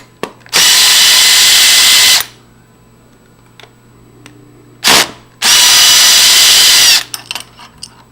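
A power drill runs in reverse to back out two screws holding the ring of a PLS Grade 2 entry lever lock, two loud sustained whirring bursts of about one and a half seconds each, separated by quieter handling clicks.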